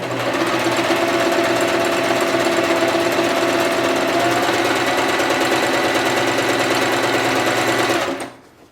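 A sewing machine stitching elastic (lastex) onto thin fabric for a dress, running in one loud, steady, rapid mechanical whir that cuts off abruptly near the end.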